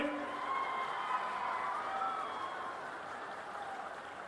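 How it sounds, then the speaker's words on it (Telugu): A crowd at an NDA political rally addressed by Chief Minister Chandrababu Naidu in Andhra Pradesh, broad, sustained clapping and cheering heard from a distance, steady and moderately faint. "అవును అంటే గట్టిగా చప్పట్లు కూడా చెప్పండి"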